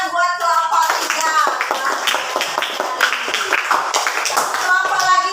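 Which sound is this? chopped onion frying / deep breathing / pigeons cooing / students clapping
students clapping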